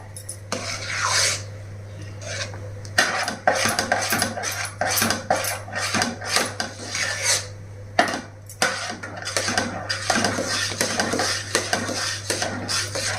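A spoon scraping and knocking around a pot while sago and rice flour batter is stirred for vadiyalu, with irregular close rubbing strokes and clinks over a low steady hum, no talking.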